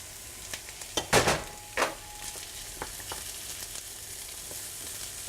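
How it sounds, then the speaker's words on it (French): Onions sweat in a pan and are stirred with a wooden spoon, a soft steady sizzle with a few scraping knocks of the spoon, close and quiet. "on fait un peu suer les oignons, on les remue avec une cuillère en bois"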